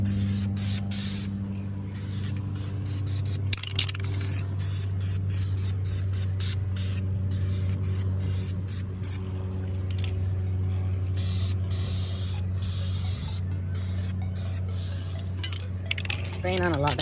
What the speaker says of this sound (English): Spraying on a lot better now.